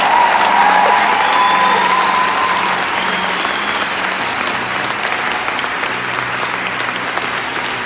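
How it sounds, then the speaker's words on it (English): Loud, continuous crowd applause with a hint of cheering, strongest at the start and then settling to a steady, slightly softer roar of clapping. "we get to applaud you"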